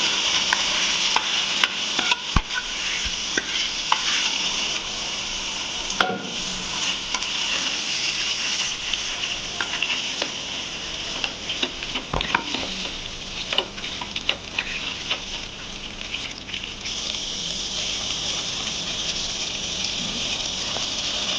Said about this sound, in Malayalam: വേവിച്ച് വെച്ചിരിക്കുന്ന ബീഫ് ഇങ്ങനെ ഇട്ട് കൊടുക്കും.